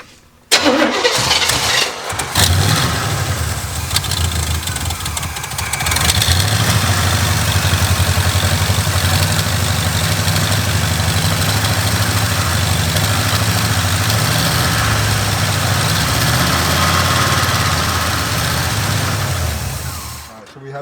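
A carbureted Oldsmobile engine with vacuum leaks cranks, catches and roars to life after a couple of tries, then settles into a steady, loud, rumbling idle that runs on.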